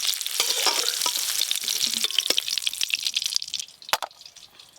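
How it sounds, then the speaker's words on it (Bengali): Tomatoes fry in a pan for a Bengali egg curry, crackling and sizzling up close while a utensil stirs and scrapes, with sharp pops and spatters that ease off toward the end; no one speaks. "টমেটোগুলো ভেজে একেবারে গলিয়ে নেব না"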